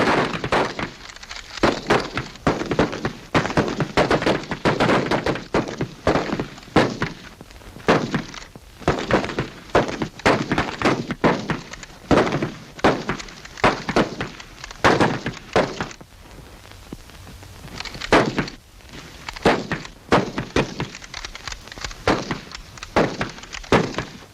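Soldiers fire rifles at a target in a 1942 WWII comedy film, a long run of sharp, rapid shots in dense irregular bursts with brief pauses, loud and close.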